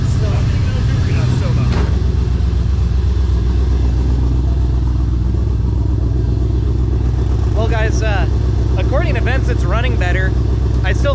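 A Trans Am with an LQ4 408 stroker V8 idles rough on four cylinders with dead injectors, its loud uneven low rumble running steadily throughout while a person talks over it.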